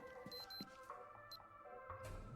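A washing machine in the video game Arcade Paradise gives a couple of short, high electronic beeps over a steady background hum of game sounds.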